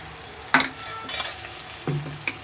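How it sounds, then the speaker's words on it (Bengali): Spice paste with green chillies being fried for a fish curry, a soft sizzle broken by a few clanks and scrapes of a utensil against the pan, close and moderately loud with no talking. "এবার খুব ভালো করে আমি মশলাটাকে কষিয়ে নেব।"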